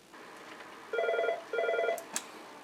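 Telephone ringing in a workshop, two bright electronic ring bursts in quick succession followed by a short click, clear and close against a quiet background.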